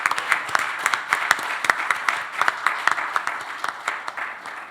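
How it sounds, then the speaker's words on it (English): Audience applause at a real estate conference session in Nigeria, a dense, steady clatter of many hands clapping together, fairly close and sustained throughout without fading. "so a round of applause"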